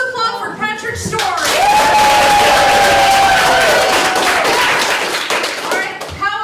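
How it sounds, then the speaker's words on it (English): An audience claps and cheers loudly for a child's story at a live show, dense applause with whoops and a long rising whistle, voices talking briefly at the start and end. "Let's applaud for Patrick's story."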